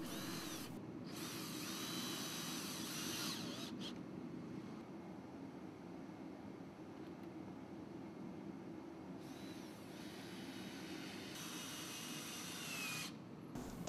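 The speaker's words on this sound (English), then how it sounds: "Working on the bottom of the deck, screw rips of plywood around the perimeter." Power drill driving screws into plywood strips along the perimeter of the underside of a countertop deck, with two close whirring bursts at the start and end and a quieter stretch of background noise between them.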